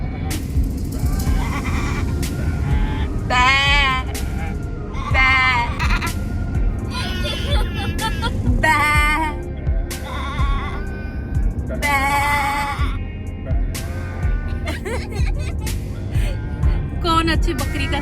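Over the steady rumble of a car interior on a desert road trip, people take turns imitating goat bleats with repeated wavering, nasal calls, loud and close, with voices chatting between them.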